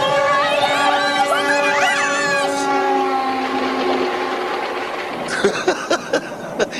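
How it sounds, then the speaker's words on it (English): A big train rushing past in a cartoon, loud horn-like tones over a rumbling roar, then sharp clattering bursts as it goes by. "it's a big train coming right at us."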